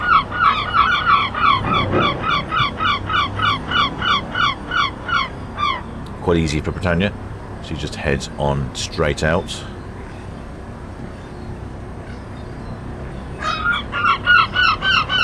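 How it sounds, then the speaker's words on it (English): Seagulls calling at the Port of Southampton, bursts of rapid repeated cries near and loud, fading midway while someone talks over the quieter stretch, then the calls return at the end. "Turn the seagulls off."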